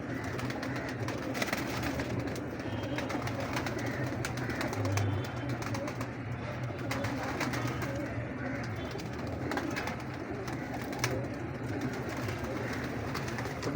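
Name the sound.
Captan breed pigeons cooing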